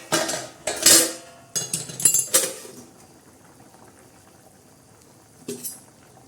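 A metal lid is handled and set onto a pot of cooking ridge gourd vegetable, giving a few sharp clanks and scrapes close by, followed by near quiet and one last faint clink.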